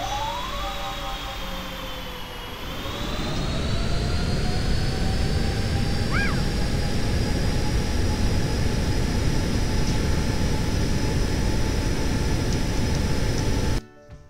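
A simulated airplane comes in to land in the flight game Aerofly FS 2020, with a steady, loud engine drone and wind roar that swells after a few seconds and holds before cutting off abruptly at the end.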